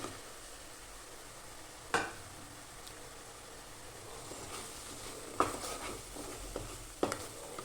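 Ginger roasting in a pan over medium heat, a soft continuous sizzle with a few sharp scrapes and clinks as it is stirred, with no talk.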